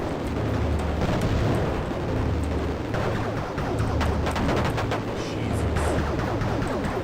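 Explosions in an MS-DOS video game boom in repeated loud bursts over a continuous dense roar, with a low pulsing music pattern running underneath throughout.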